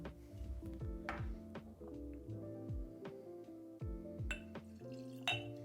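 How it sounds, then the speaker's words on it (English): Water goes into a glass of pure malt whisky, with light trickles and drips and several small glassy clinks and taps close by, quiet and intermittent. "Let's try some with a little bit of water."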